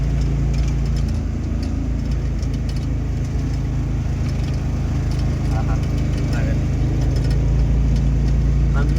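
A lorry engine labours uphill on the NH7 highway near Kurnool, a loud, close, steady low drone with a constant rumble that never lets up.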